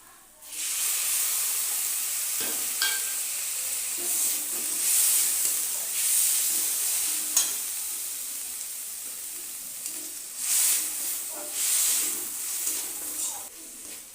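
Chopped tomato added to a pan of fried onion, garlic and ginger for a small prawn curry, hissing and sizzling loudly up close in a steady wash with brief surges and stirring, without talk.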